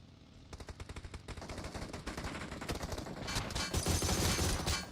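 Automatic weapon fire in a 4v4 battle-royale video game fight, dense rapid bursts building from a steady rattling stream to heavier, louder volleys near the end, with no talk.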